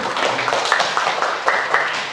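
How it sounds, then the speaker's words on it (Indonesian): A classroom of students claps together in a busy, uneven patter of handclaps lasting a couple of seconds, with voices mixed in underneath. "kita berikan tepuk tangan dulu"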